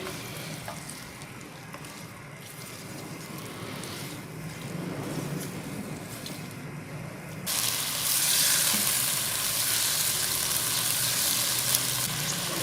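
Mutton mixed with beaten yogurt, salt and green chillies in a cooking pot, a continuous wet sizzling churn that swells louder and brighter about halfway through and stays steady, with no talking.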